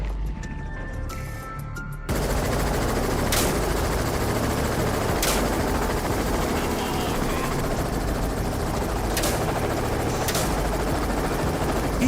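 Helicopter engine and rotor noise roars steadily during a wild boar hunt for invasive hogs, with a few sharp shot-like bursts cutting through. The sound starts quieter, then jumps to a loud, continuous drone after about two seconds.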